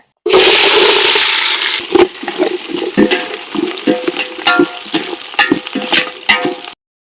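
Fenugreek seeds and shallots hit hot oil for a fish curry with a loud burst of hissing sizzle, settling into steady spitting crackle with repeated stirring scrapes, close and vigorous, without speech.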